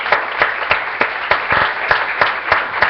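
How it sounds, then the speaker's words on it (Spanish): A church congregation claps in unison during a Spanish-language service, loud rhythmic beats at a steady, roughly even pace. "démosle un aplauso"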